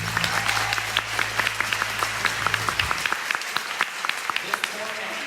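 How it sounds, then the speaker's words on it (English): Applause from a live music audience in Newtonmore for the sound engineer at a gig, a steady crowd of clapping with sharp individual claps standing out, fairly close and filling the clip, with a low hum fading out partway through. "just a huge round of applause for Mr. Eric Peary back there, who has just"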